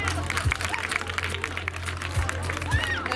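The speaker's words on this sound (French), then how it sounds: "Applaudissez-le pour ça" An audience at an event at Le Damier in Grigny gives a continuous, crackling round of applause, with scattered voices and a low hum running underneath.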